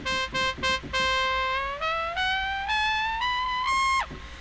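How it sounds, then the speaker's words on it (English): A synthesized poly trumpet patch on a keyboard, set up for Tejano brass, plays short staccato stabs followed by sustained notes that bend upward in steps. It is bright, brassy and alone, with no talk. "Oh, what's this poly trumpet?"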